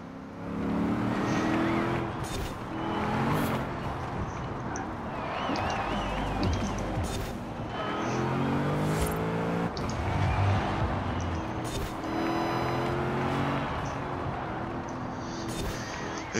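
A car races in Forza Horizon 4 through Edinburgh, its engine loud and continuous, rising and falling through gear changes and braking, with shifting whines and brief tire squeals, and someone speaks faintly underneath.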